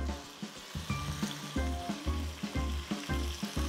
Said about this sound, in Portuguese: fritar esse frango e ir colocando um pouquinho de água